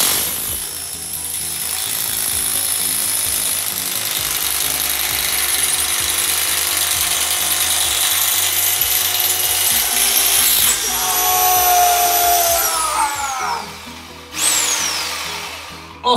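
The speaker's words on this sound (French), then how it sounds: "on va utiliser le perfo" A hammer drill bores into a wall during a home renovation, running loud and continuous with a steady hammering rattle, briefly easing and pitching down near the end before starting up again.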